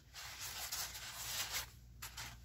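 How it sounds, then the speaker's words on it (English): A sanding pad rubs against carved expanding foam in close, soft, hissing strokes that repeat a few times over about two seconds. The sound is quiet and heard alone. "So I'm actually using a sanding pad for the first time."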